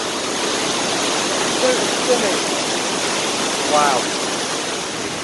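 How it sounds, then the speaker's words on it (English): Waterfall in the Peak District, a steady broadband rush of falling water heard close and continuous, with a person briefly exclaiming over it. "I got sidetracked there with that beautiful waterfall"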